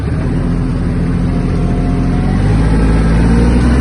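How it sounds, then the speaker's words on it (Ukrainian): A loud, steady low engine drone with mechanical rumble from a Japanese Kubota KL-2450 Hi-speed mini tractor driving close by, continuing without a break. "Так, трактор їде."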